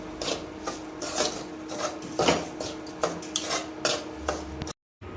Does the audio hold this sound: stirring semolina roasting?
yes